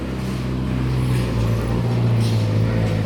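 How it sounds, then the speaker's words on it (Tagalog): A truck rumbles past on a busy road, a heavy low engine drone filling the whole stretch beside a street crossing, with traffic noise and a faint voice in the background. "Teka, may truck pa."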